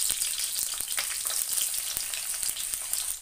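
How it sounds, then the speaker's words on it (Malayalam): Chopped coconut pieces sizzling loudly in hot oil in a pan with cooked beef for a Kerala-style beef fry, a dense continuous crackle with scattered pops and stirring scrapes, close and with no speech. "നമുക്ക് തേങ്ങാ കൊത്തിട്ട് കൊടുക്കാം."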